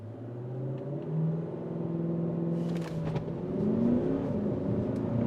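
A 2.5-ton Porsche Cayenne with a 4.2-litre V8 diesel accelerates hard from inside the cabin, its deep engine drone rising steadily through the gears in one continuous, moderately loud pull.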